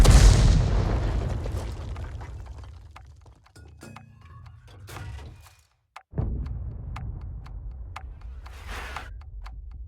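An artillery shell from a 105 leFH18B2 gun in a tank video game lands with a loud boom that rolls off into a long decaying rumble, followed by scattered faint clicks and ticks, then a second softer thud.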